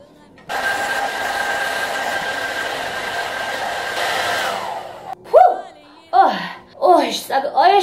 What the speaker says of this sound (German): Jetzt kommt der Föhn.